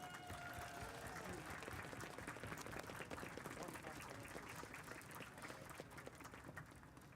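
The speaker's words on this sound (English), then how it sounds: "let's hear a round of applause for the mayor-elect of our city" A crowd at an outdoor menorah lighting claps and cheers for the mayor-elect, dense continuous applause at fairly low level that holds steady throughout and thins slightly near the end.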